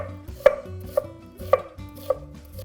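A knife chops plum tomato on a board in four sharp, evenly spaced strikes, clear and close, with a faint low hum between the cuts and no voices.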